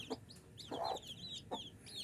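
A brooding hen clucks close by in a few short, throaty bursts. Faint chirps from chicks or small birds sound behind her.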